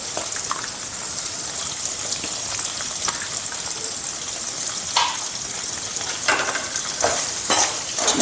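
Garlic fries with spice powder and salt in a pan for an avalakki snack: a continuous loud sizzle close up, broken by scraping stirs, with no talk.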